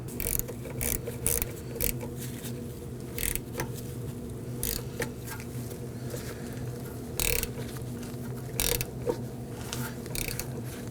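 A hand ratchet clicks in short bursts while snugging down a rear brake hose fitting on a 2015-2023 Nissan Maxima, crisp metallic pawl ticks close up against a steady low hum, with no speech.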